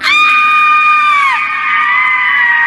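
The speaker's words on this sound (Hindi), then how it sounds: "तभी बाहर से काव्या की जोरदार चीख सुनाई दी।" A woman lets out a single loud, sustained high-pitched scream as a horror-story sound effect, piercing and close, with no talk over it.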